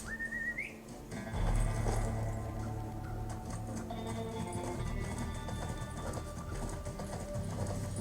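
Horse hooves clip-clop in a video game, a steady run of close, even hoofbeats that carries through the whole stretch over a bed of game music, with a short whistle-like sweep at the start.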